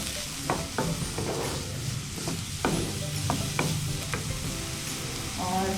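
Finely chopped mushrooms sauté in a hot pan with a steady sizzle, broken by repeated scraping stirs of a utensil against the pan.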